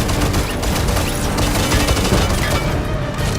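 Dense bursts of rapid gunfire in an animated action scene, a loud, continuous clatter of shots mixed with booming impacts, filling the whole stretch without pause.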